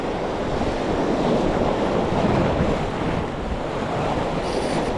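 Steady rushing wash of ocean surf mixed with wind noise, continuous and fairly loud, with no voices.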